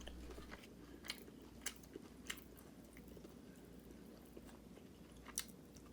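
Someone chews crunchy mini sweet and sour pork up close, with quiet, soft crunches repeating every half second or so over low mouth noise.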